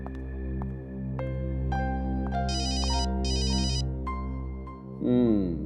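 A mobile phone ringtone sounds during a tense scene in the Hindi crime drama CID, its bright repeating electronic tone bursts playing over a steady orchestral music bed at moderate loudness.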